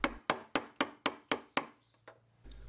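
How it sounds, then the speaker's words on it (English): A mallet drives a chisel into pallet wood to clear waste, giving six sharp, evenly spaced strikes close up, followed by two lighter taps and then quiet. "Next, use a mallet and chisel to remove the waste."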